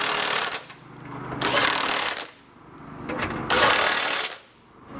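Impact wrench driving a 3/4 inch socket to tighten Curt trailer hitch bolts on a 2011 Chevrolet Express van, two loud buzzing bursts of rapid hammering separated by pauses, close up.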